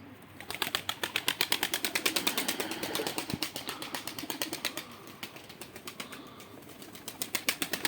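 Pigeons beat their wings in a rapid, rhythmic flutter of soft claps, close by and steady throughout, with a few faint coos and no talking.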